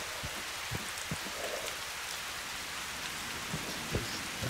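Steady rain falls in S.T.A.L.K.E.R. Radiophobia, a dense continuous hiss of drops with occasional low rumbling thuds scattered through, no voices.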